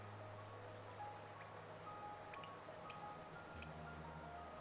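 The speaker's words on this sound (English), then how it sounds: "the rain pours down from the cracks in the stone above" Rain pours steadily through cracks in the stone roof of a vast cavern city in the video game Hollow Knight, a soft, even patter with scattered drips, faint and unbroken throughout.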